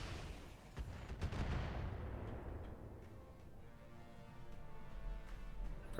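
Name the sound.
explosions in video game Battletech Roguetech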